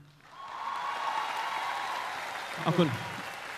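Steady broadband applause from an audience fills the clip, with a brief voice or musical tone near the end.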